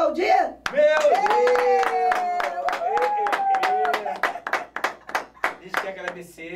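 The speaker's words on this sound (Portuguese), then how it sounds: "vamos pedir a plateia para aplaudir?" A studio audience on a Brazilian talk show claps in sharp, distinct, rhythmic strikes that grow looser toward the end, while a voice speaks loudly over the clapping.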